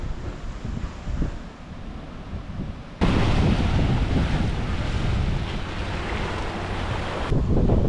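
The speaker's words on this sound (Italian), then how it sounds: "C'è un po' di vento" Wind batters the microphone on a seaside beach on Koh Phangan, Thailand, a rough, broadband roar that jumps sharply louder partway through and holds, with surf faintly beneath.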